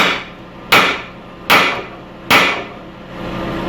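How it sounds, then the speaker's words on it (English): A hammer strikes a ball joint to seat it in the control arm of a 2001-2012 Ford Escape, three sharp metallic blows about a second apart, close and loud in a garage. "you want to hit this with a hammer a few times just to make sure that it's seated all the way up against the control arm"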